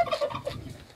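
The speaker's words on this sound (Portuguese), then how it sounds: "Aí tem um peru ali." A turkey on a rural farm gobbles in a quick, rattling burst, close and fairly loud, fading out by the end.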